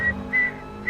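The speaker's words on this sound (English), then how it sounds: "and you would whistle, and it would..." Someone whistles to trigger a key finder: three short, pure, high whistle notes, close and clear, with brief gaps between them.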